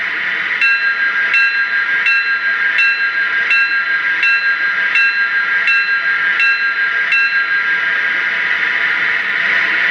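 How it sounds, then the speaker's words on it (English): Bell on a Lionel corporate tinplate O-gauge #256 electric toy locomotive rings in about ten evenly spaced, close strikes over a continuous steady hum, with no voices. "And up next, let's check out the bell."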